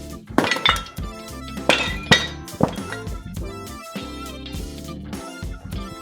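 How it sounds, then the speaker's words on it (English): A corroded rear shock absorber on a rusted BMW car comes loose and drops, making several sharp metallic clanks and thunks with ringing overtones, close and loud. More clinks and knocks follow as it settles, and no voices are heard. "The rear shock absorber drops free."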